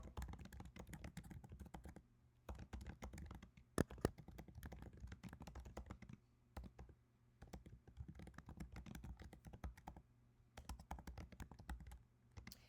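Quick bursts of keystrokes on a computer keyboard, close and fairly quiet, come in uneven runs separated by short pauses, with a couple of sharper key clacks mixed in.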